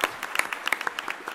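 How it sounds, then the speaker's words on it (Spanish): A conference audience applauds a panel at the close of a plenary session, a brief burst of dense, close clapping with sharp individual hand claps standing out. "gran aplauso."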